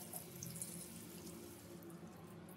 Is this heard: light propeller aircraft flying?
no